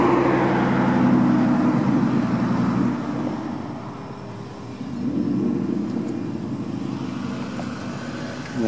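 A car passes on a road near Arrowhead and Big Bear, its broad engine and tyre roar loud at first and fading, with a second swell of traffic noise midway and no talk.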